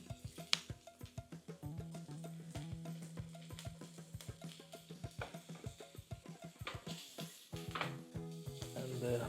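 Carrots dropped into a pan with onions for lasagna, hissing in steady sizzling with repeated stirring clicks and scrapes, faint voices in the background.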